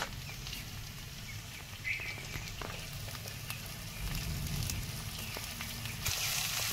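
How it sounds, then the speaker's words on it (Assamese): Chicken meat and chopped dhekia fern greens fry in a pan with a soft, steady sizzle and occasional light pops and crackles. It is fairly quiet and grows slightly louder toward the end, with no talk. "এতিয়া মাংসখিনি খুব ধুনীয়াকৈ ভজা হ'ল।"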